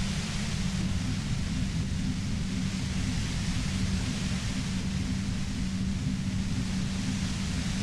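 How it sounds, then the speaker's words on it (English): A droning white noise effect from the video game Disco Elysium: steady, even hiss with a heavy low rumbling floor, unchanging and alone for several seconds, moderately quiet. "You hear through the white noise."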